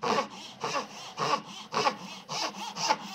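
Hand saw strokes cutting a wooden dovetail in a steady back-and-forth rhythm, about seven rasping pushes, close and clear with no talk.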